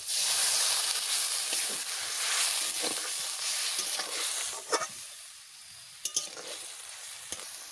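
Water poured into sizzling masala for egg curry sets off a loud, steady hiss and frying crackle that gradually settles, with a few sharp clinks of a utensil against the pan near the end; no one talks.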